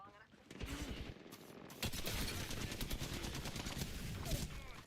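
Video game gunfire: rapid automatic bursts that build into a dense, continuous volley of close shots, a few isolated shots coming first.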